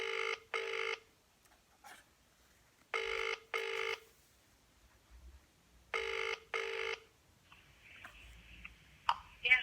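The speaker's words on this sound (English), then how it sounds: "Let's get Sister Vera on phone" Telephone ringing on a call-in line, a repeating double-burst ring pattern heard three times in a quiet background, followed by faint clicks and a soft tone as the call connects.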